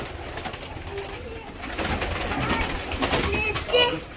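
Pigeons coo softly in a rooftop pigeon loft. The murmuring calls come from close by, alongside other bird sounds and a few voices in the background.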